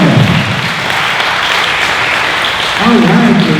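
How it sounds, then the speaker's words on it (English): Applause from a party crowd gathered for a classic Corvette giveaway winner, a loud continuous roar of clapping with a voice or music tones rising over it near the end. "Let's give a big round of applause."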